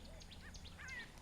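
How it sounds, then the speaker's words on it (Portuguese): Yellow-billed bulbul calling in savanna at Gorongosa: a few short, faint, distant chirps and warbled notes over a quiet background, with no talking. "Yellow-billed bulbul."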